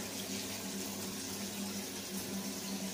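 Water from an Aqua Nova N-RMC 5000 lift pump gushes in a steady, loud fountain, splashing continuously up close with no talking over it.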